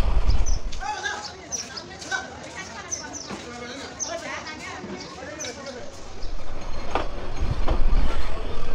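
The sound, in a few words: Lalmoni Express train running, clickety-clack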